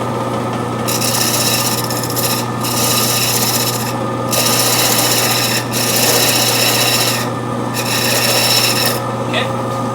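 Wood turned on a lathe while taper cuts are made for a snowman's hat brim, a loud steady motor hum under rasping tool-on-wood scraping that stops and starts in several short breaks.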